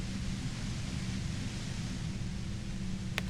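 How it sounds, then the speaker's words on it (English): Dense static hiss in the Disco Elysium video game, a loud, even wash of white noise with a deep rumbling undertone, steady throughout with a brief crackle near the end. "You hear through the white noise."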